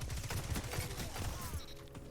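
Rapid Cantata-57 gunfire in a video game, a dense string of close, loud shots over about two seconds.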